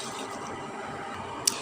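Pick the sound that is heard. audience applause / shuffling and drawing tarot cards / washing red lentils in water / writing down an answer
washing red lentils in water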